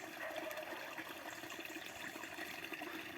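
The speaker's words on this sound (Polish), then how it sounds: "Tu napływa woda." Steady rushing of water flowing in a stream, a continuous broadband wash with no pauses, fairly close and moderately loud.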